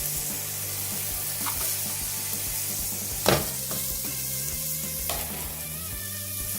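Garlic sizzles steadily in a hot frying pan, a continuous near crackle with a couple of sharper spatters and light scrapes, no voices.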